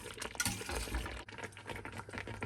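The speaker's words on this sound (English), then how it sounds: "So I'm gonna reduce the flame. So this is on a small heat and let it simmer to finish the" Thick quince paste simmers in a pot over a small flame, giving a soft, continuous bubbling and gurgling close by with faint plopping, low and steady throughout without any speech.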